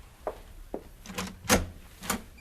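Knocking at a door as a sound effect in a radio drama, several separate raps of varying strength spread unevenly across a couple of seconds.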